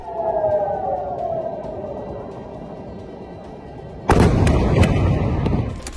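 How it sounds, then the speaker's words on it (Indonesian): An Iranian missile strikes an urban area of Petah Tikva near Tel Aviv. A fading siren tone gives way to a sudden, heavy explosion that booms loud and sustained through the final seconds. "rudal Iran langsung menghantam area urban di Petah Tikva dekat Tel Aviv, yang menyebabkan ledakan besar"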